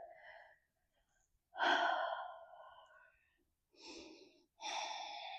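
Heavy breaths during a glute and cardio workout held in position, several loud exhalations and inhalations with pauses between, close and alone without talk.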